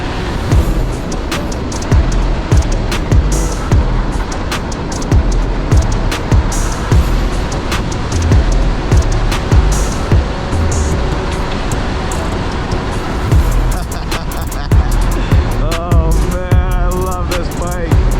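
Road traffic sweeping past at close range, a broad steady roar of cars and buses beside a sidewalk, with repeated passing surges and a brief tonal whine near the end.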